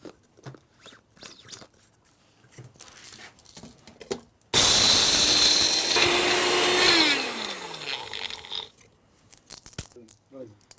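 A mixer grinder roars loudly for a couple of seconds as it grinds ingredients for pirandai powder, its pitch then winding down, with someone talking quietly before and after.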